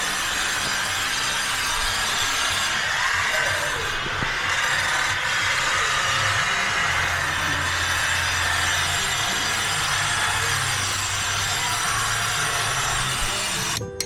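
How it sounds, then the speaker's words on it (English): A power saw cuts a notch into the top of a concrete pool bond beam during pool tile installation, giving a loud, steady, grinding drone that runs unbroken for the whole stretch with no talk over it. "we're notching out the top of the bond beam"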